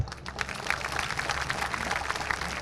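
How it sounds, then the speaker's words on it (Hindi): A rally crowd claps for a local constituency, a fairly faint, continuous patter of many hands heard at a distance. "तो एक बार इस बेरी हल्के के लिए ताली बजाओ।"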